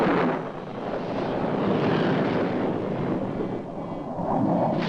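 Military jet aircraft in combat flight over North and South Vietnam: a loud, continuous broadband roar that swells and eases slightly and then builds again toward the end, with no voices.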